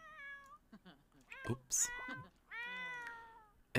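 A cat meows repeatedly in The Sims 4, several drawn-out, close and clear game meows, with someone briefly speaking among them.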